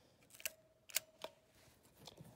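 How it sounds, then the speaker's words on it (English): Cocking the shutter of a Kodak Medalist camera in a quiet room at night gives a few faint, short metallic clicks and ticks spread over a couple of seconds. "We cock the shutter."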